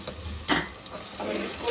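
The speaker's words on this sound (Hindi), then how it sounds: "अब इसको मिक्स करेंगे।" Spice masala of red chilli, salt, turmeric and dried coriander being stirred in a pan, a soft scraping swirl with a brief brighter swish, close and fairly quiet, no talking.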